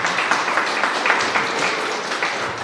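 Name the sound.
audience applause for the staff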